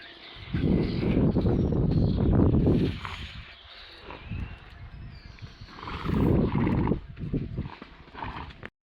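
A mare snorts and whinnies loudly nearby, with shuffling hoof sounds and bursts of breathy noise in two strong spells, alone without speech.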